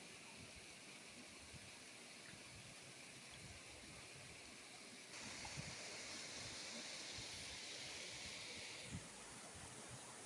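Fast water pours through a small culvert on the Valukkai River in Jaffna, a steady hissing rush that swells louder midway for a few seconds before settling back, with no voices.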